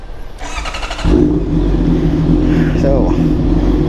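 A Honda CBR650R motorcycle in a parking area cranks and fires up, then settles into a loud, steady idle close by.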